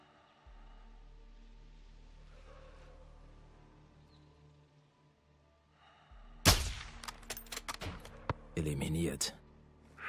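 Sniper rifle shot in Call of Duty Modern Warfare II, a sudden sharp blast after quiet ambience, followed by clattering, crackling game effects.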